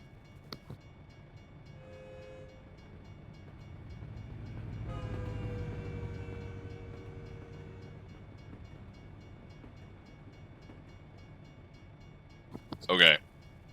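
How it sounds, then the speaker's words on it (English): Freight train rolling past a rail crossing in American Truck Simulator near Cody, Wyoming, a low steady rumble swelling mid-clip with a brief horn-like tone, then a sharp loud clatter near the end. "wait for the train"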